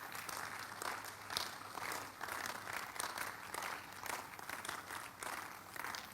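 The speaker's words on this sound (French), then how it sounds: "Give the Lord a big hand of praise." Congregation applauding together at a church prayer service, a steady, dense wash of clapping that holds at an even level throughout, with crowd noise mixed in.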